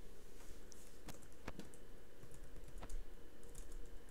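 Someone taps out a name for a game save on a computer keyboard, producing quiet, irregular clicks and clacks with short pauses between keystrokes.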